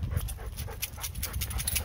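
Dogs play fighting at home: rapid panting, snuffling and soft growly breaths close to the microphone, a busy rhythmic scuffle with no talk.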